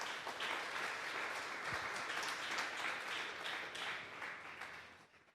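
A church congregation at a Sunday service applauds: dense, sustained clapping from many hands fills the room evenly, then gradually fades out at the end.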